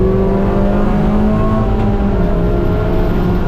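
A race car engine accelerating on track during an ST6 class race at NCM, a steady loud onboard drone with rising harmonic pitch, continuous throughout with no talk.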